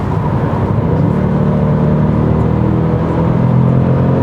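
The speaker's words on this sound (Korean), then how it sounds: "이렇게 하니까는 오히려 배기음이 뭔가 좀 살아나는 듯한 느낌이 듭니다" A 2024 Genesis G70 2.5 turbo four-cylinder GDI AWD engine revving with active sound design set to strong, giving a steady, loud, droning engine and exhaust hum throughout with no speech.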